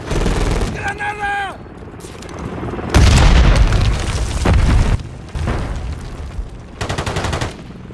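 A grenade blows up in a hardcore-mode first-person shooter, a loud broadband blast about midway that follows a brief tonal whoosh and gives way to scattered rumbling gunfire and further bursts, with a voice briefly heard.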